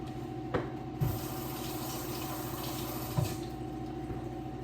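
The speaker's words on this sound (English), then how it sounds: "let me wash my hands" Tap water runs steadily into a sink while someone washes their hands, with a soft continuous splash and a couple of faint clunks, heard at a low level indoors.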